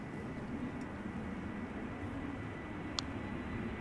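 A TUI airliner operated by Global X arrives at Amsterdam Schiphol on a sunny day, heard as a faint, distant, steady jet rumble with a soft broadband hiss and no voices.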